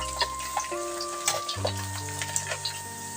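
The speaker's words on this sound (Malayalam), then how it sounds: "അതേ ഓയിലിൽ തന്നെ ഒരു 3 ടേബിൾ സ്പൂൺ വെളുത്തുള്ളി ചെറുതായിട്ടൊന്ന് നീളത്തിലരിഞ്ഞത് ഇട്ട് കൊടുക്കുക" Sliced garlic, about three tablespoons cut lengthwise, frying in oil over a medium flame, a soft sizzle with scattered stirring clicks and spatula taps, under a sustained tonal hum from the kitchen.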